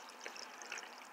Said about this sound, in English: we're gonna just pour this into this filter